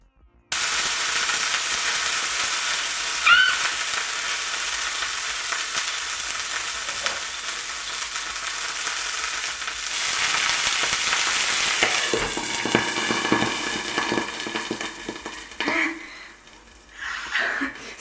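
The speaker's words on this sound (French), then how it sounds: "Donc un peu d'eau pour faire une cuisson vapeur" Fluffy pancakes frying in a pan give a steady loud sizzle, then water is added to steam them and bursts into a harsher hissing rush that surges and crackles before easing off near the end.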